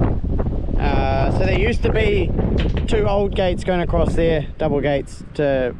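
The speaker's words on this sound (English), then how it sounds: "sorry about the wind." Outdoor wind rumbles and buffets the microphone on a farm paddock by an old gate, a low gusty roar running under someone talking throughout.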